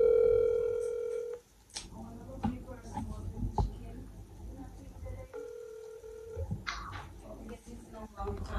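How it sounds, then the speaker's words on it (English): A telephone ringback tone on an outgoing call sounds in two long steady buzzes separated by a gap, with faint clicks and background noise between them. "it's ringing."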